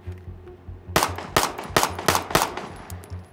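Rapid string of about seven loud pistol shots from a Staccato handgun on a range drill, sharp cracks fired in quick succession after a brief quiet lead-in, close and echoing.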